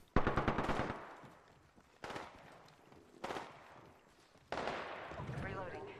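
Bursts of automatic gunfire in the battle royale game Apex Legends: four loud, rapid volleys, each fading into a short echoing tail before the next one.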